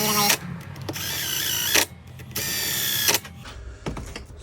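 A power tool driving 5mm bolts into the engine case of a Suzuki DRZ 400 motorcycle during crankshaft replacement, several short whirring bursts with brief pauses between them, close and fairly quiet.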